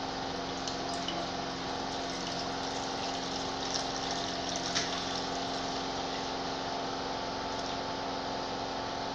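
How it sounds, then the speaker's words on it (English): Milk pours out of a pot in a home kitchen while making yogurt, a steady continuous liquid gush and trickle running evenly for several seconds with no talking. "We'll pour the milk out now."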